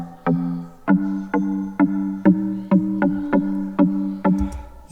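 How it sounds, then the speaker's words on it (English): A synthesizer sine-wave pluck with a lengthened envelope repeats nine times in an even rhythm, each note striking sharply and then ringing and fading before the next, with a low thump at the end. "we're gonna make this sine wave a little bit longer of a pluck"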